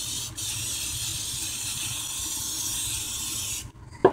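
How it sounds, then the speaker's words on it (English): Clear coat sprayed steadily from an aerosol can onto a painted surface, a continuous close hiss lasting several seconds before it cuts off, followed by a brief knock. "I'll add a little bit of clear coat to this."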